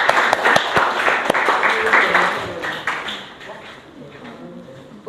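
Classroom applause: scattered hand claps from a group of students, fairly close and uneven, tapering off after a few seconds. Voices murmur underneath.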